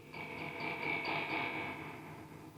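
A White Whale jr spring reverb pedal's tank is tapped, giving a soft, metallic boing that smears into a wobbly, echoing wash and slowly fades.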